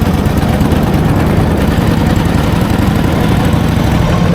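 The engine of a 1946 Harley Davidson FL Knucklehead motorcycle runs on its first start in 20 years, a steady, loud, low rumbling idle that carries on with no break.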